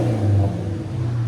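Close and loud, a deep, rumbling exhaust note from a 2014 Dodge Charger R/T's 5.7L HEMI V8 through a Magnaflow system swells in a short rev, then settles slightly.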